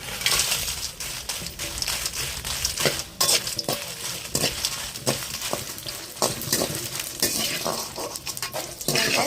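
Dried red chillies frying in groundnut oil, a steady loud sizzle and crackle with frequent scraping stirs of a spoon against the pan, close up, no talking.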